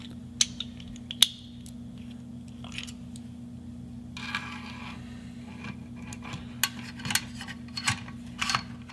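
Metal clicks, scrapes and small clanks as the bolt of a Smith & Wesson Model 1000 shotgun is worked back into its receiver, close and intermittent over a steady low hum, louder toward the end.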